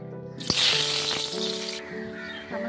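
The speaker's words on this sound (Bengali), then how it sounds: "গরম হয়ে গেছে, প্রথমে আমি আলু কাটা ভেজে নেব," Cut potatoes land in hot mustard oil with a sudden loud hiss that spreads into a steady close sizzle, sounding briefly and alone with no voice.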